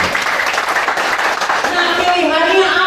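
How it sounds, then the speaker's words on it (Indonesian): Seminar audience clapping in a broad wash of applause with voices mixed in, holding at a steady level throughout. "Tepuk tangan dulu untuk kita."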